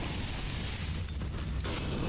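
A molotov fire burns in Counter-Strike, a dense, steady roaring crackle heard up close for about two seconds.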